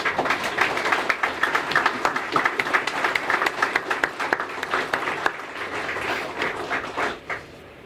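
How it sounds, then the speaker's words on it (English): Audience applause at a veterans community center dedication ceremony, a dense burst of many hands clapping steadily for several seconds before tapering off near the end. "I think they deserve a round of applause."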